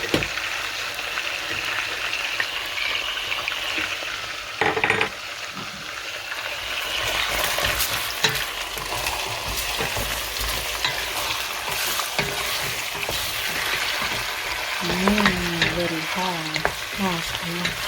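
Chicken browns in hot oil with garlic for kabsa, giving a constant crackling sizzle mixed with clattering stirs and scrapes against the pan.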